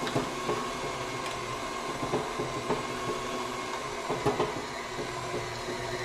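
A KitchenAid stand mixer grinds venison for burgers with a steady, loud mechanical drone and faint rhythmic clicks, heard alone at close range.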